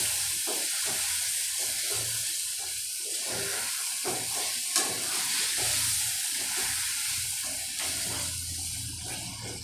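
Mutton pieces sizzle as they are stirred and fried in masala for a mutton thali, a steady close hiss with soft scraping and bubbling throughout, no one speaking.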